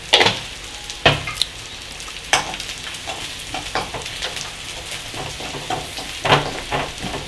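Onions frying in a pan with a pinch of turmeric for a Kerala-style fish curry and cassava meal, heard as a steady close sizzle broken by sharp clinks and scrapes of stirring, with no talking.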